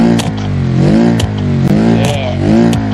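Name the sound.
car with broken exhaust revving in BeamNG.drive video game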